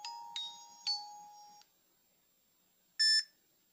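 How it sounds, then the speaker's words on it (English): A Junsun K88H budget Bluetooth smartwatch plays its default notification tone: a few quick bright chiming beeps in a row, a pause, then a louder short electronic chirp, alone in quiet. "Notification tone"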